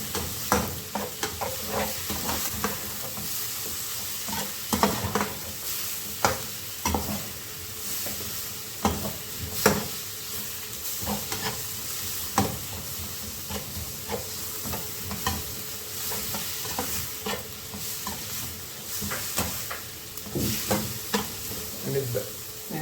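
Onion and garlic clove frying in a pan for a couscous dish with vegetables and meat, a steady soft sizzle broken by repeated stirring scrapes and clinks, close and continuous throughout with no talk.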